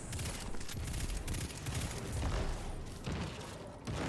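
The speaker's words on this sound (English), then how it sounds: "Void Machine Gun works well here" Void machine gun firing in Destiny during a solo Master Lost Sector, a dense, continuous stream of rapid shots with some deeper booms mixed in.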